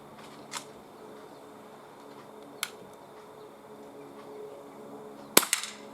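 Umarex CPS CO2 pellet pistol fired outdoors, three sharp isolated cracks spaced a couple of seconds apart, the last one loudest, over quiet outdoor background.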